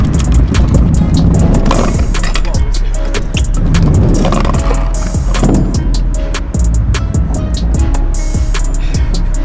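A BMX bike rolls hard over a stone ledge in a street flatland session, loud, close rumbling and scraping grind with gritty texture and a few knocks, in outdoor urban ambience.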